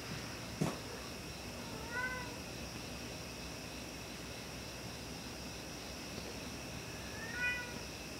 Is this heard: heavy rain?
no